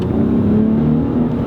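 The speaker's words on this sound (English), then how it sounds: "So now we're in the Dodge Challenger. This is the V6 version" A Dodge Challenger SXT with a V6 engine revs from inside the cabin, a loud, steady low drone with a strong tonal hum over a short burst.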